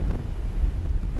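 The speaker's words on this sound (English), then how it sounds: "the bracing wind sweeping across the beach at Datan suits Wenko Xu" Chilly wind gusting across the beach at Datan, Taiwan, a steady low roar buffeting the microphone without letup, with a faint hint of surf beneath.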